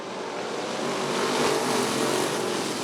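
Race cars at Rockford Speedway roar together in a broad, dense engine wash at the green flag start of a bracket race, swelling in loudness and heard from a distance with no speech.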